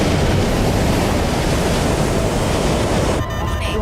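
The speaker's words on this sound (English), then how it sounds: "The wind's spinning us around." Strong wind roars steadily and loudly, a dense unbroken rush that drops slightly near the end, with no voices over it.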